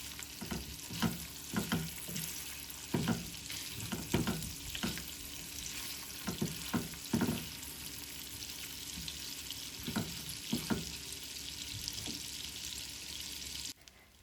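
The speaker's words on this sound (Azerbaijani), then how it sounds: "Qızğın yağa sudan çıxartdığım ətləri əlavə edib qızardıram" Pieces of boiled meat frying in hot butter in a pan for goulash, a steady close sizzle punctuated by irregular stirring scrapes and knocks, with no talk.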